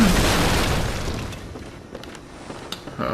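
A cannon in the game Bloodborne, set in the Forbidden Woods, fires with one loud, close boom at the start that rumbles and fades, followed by quieter distant shots and scattered clatter.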